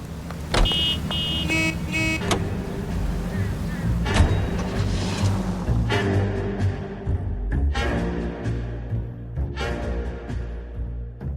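A car driven in the video game LA Noire gives a steady, loud engine rumble through the whole stretch, with brief tonal, horn-like bursts layered over it.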